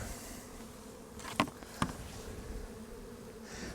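Honeybees buzzing inside a heavy, densely populated hive, a steady low hum with two brief sharper bursts of close buzzing near the middle.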